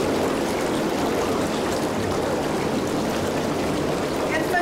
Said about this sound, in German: Ich möchte mal Bubbles anmachen.